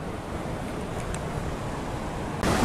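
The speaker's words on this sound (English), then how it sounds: "And it's kind of windy as always. When you're near water, it's windy." Steady wind rushes and buffets the microphone outdoors near the Prairie du Sac Dam, a continuous broadband roar with a sharp gust at the end.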